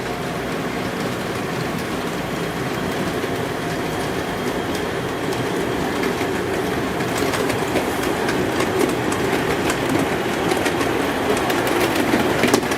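A model Lone Ranger Jupiter steam locomotive, loosely based on MTH's O-gauge Jupiter, runs steadily, with a continuous close rumble and a light rhythmic clatter that builds slightly toward the end. No voices are heard.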